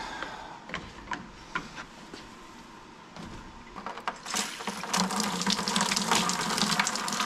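Water starts running from a tap after leaky fittings on the line have been tightened, building from scattered taps and drips into a steady, loud gushing flow.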